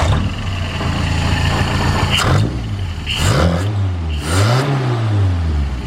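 Suzuki Sierra engine fitted with a swapped-in Corolla carburettor, running in need of a tune: a steady close idle with several rising and falling revs, loud and alone with no talk.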